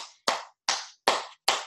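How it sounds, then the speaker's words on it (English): Four sharp, loud claps land close by in a steady rhythm, each a crisp smack with a short decay and silence between. "Yes, we're clapping. We're clapping."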